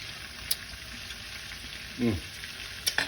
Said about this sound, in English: So my sauce is kind of cooking down here a little.